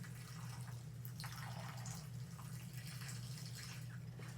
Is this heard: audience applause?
no